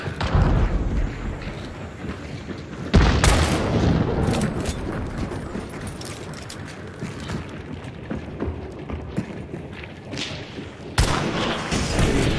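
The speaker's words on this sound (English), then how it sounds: "Oh, the cannon's running again." Cannon fire in the video game Hunt: Showdown, with two loud, sharp booms a few seconds apart and a third near the end, each followed by rumbling gunfire-like crackle that fills the space between blasts.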